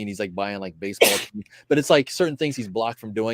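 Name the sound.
sneeze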